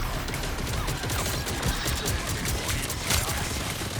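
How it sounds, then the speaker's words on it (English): Rapid continuous gunfire in the video game Marvel Rivals, shots aimed at enemy tanks, a dense loud fusillade with crashing impacts running the whole time. "I keep shooting their tanks"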